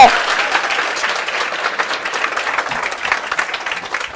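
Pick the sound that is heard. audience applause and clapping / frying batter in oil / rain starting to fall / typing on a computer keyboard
audience applause and clapping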